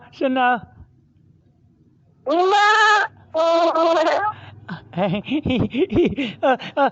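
A person mimics a goat, giving a short wavering bleat followed by two longer, loud, quavering bleats, then talks and gives a rapid string of brief bleat-like calls, all close and clear on a phone call.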